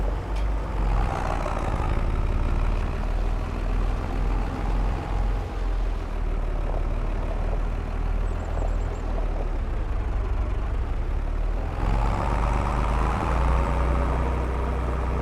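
A tractor engine in the farming video game Farm Restorer rumbles in a continuous low idle throughout, loud and close, with slight swells in tone but no breaks and no talking.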